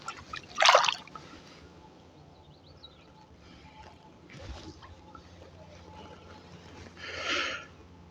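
A released fish splashes in river water near grassy banks: one sharp nearby splash, then softer watery sloshes and a later fainter splash against a quiet outdoor background.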